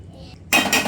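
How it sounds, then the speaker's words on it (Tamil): A metal lid set onto a pot of chicken gravy gives a single bright clatter and clink about halfway through, close and fairly loud after a quiet start. "லைட்டாக ஒரு மூடி போட்டு இதை மூடி வைக்கலாம்"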